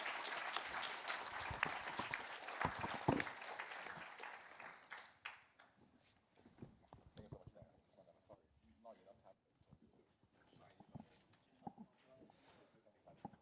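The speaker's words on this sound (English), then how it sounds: "Let us give a round of applause to our distinguished panelists." Conference audience applauds the panelists, a full burst of clapping for about five seconds that fades into scattered claps and room noise with speech.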